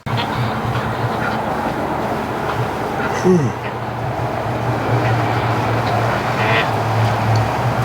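Several ducks quack repeatedly in their pen over a constant low rumbling background, the calls coming in irregular bursts at moderate distance.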